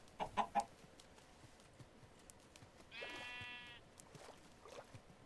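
A chicken in the Blightfall Minecraft modpack clucks three times in quick succession, then gives a longer squawking cry a few seconds later, all fairly faint over a quiet game background.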